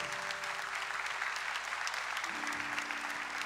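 Church congregation applauding after a Gospel reading at a morning service, a steady wash of many hands clapping throughout, fairly distant, with a low hum and faint voices underneath near the end.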